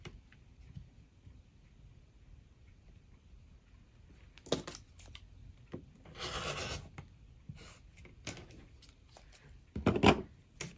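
Scissors or a rotary cutter trim fabric and paper during foundation paper piecing for a quilt block, giving a few soft, close rasping and snipping strokes with quiet gaps between them.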